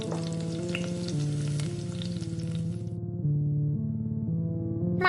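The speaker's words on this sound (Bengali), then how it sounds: "মাছ ভাজতে লাগলো" Fish fries in oil with a steady hiss and crackle that stops midway, laid over sustained background music in an animated story.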